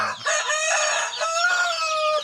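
A Shamo Aseel rooster at a fowl farm in Barangay Suclema, Ipil, gives one loud, close, drawn-out crow lasting about two seconds.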